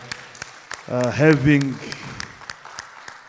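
Scattered hand claps from an audience at a general assembly session of the African Man and Biosphere Reserves Network, evenly spaced and fairly sparse, under a person speaking.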